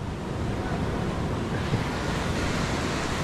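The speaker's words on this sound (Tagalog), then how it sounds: "Malaki ng alon." Large ocean waves surging and washing continuously at sea, with a steady broadband roar of surf and wind close to the microphone, no voices heard.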